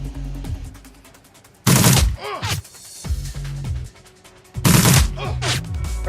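Gunfire erupts in the ShadowRun Returns tactical game: two loud bursts of rapid shots, separated by quieter clatter and echoing impacts.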